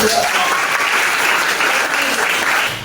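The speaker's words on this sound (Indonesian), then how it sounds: "Kasih gitu tepuk tangan." Classroom applause for a student, a dense burst of clapping from a group of pupils, loud and even throughout before tapering at the end.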